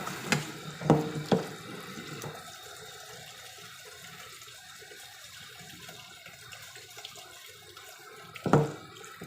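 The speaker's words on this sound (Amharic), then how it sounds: "ከዛ ውሃ ደፋበታል።" Water poured over a chicken being cleaned in a kitchen, with splashing gushes at the start and end and a quieter trickle between, close by and with no talk.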